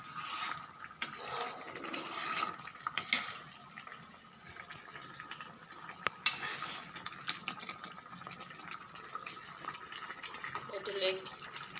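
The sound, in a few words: meat boiling in a pot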